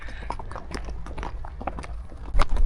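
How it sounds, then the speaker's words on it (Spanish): Criollo horses of the region step along outdoors in the Andean hills near Saqsayhuamán, their hooves giving irregular clip-clops close by, with light rustling and a louder thump near the end. "Estos son caballos criollos."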